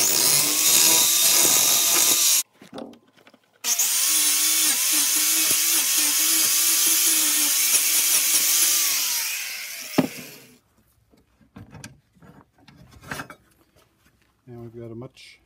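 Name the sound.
grinder cleaning up steel firepit edges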